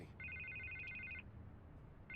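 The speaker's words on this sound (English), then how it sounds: "I can't get the phone to stop ringing." Telephone ringing inside a Batman video game, a steady electronic double-tone ring lasting about a second, then a pause before it starts again, fairly quiet over a low background hum.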